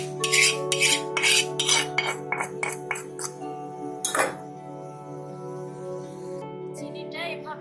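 A spoon stirs caramelized sugar for egg pudding in a metal pot, making rapid clinking scrapes and taps against the pan, close and fairly loud, followed by a quieter stretch with a steady background hum.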